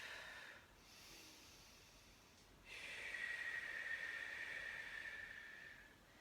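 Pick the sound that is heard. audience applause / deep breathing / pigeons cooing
deep breathing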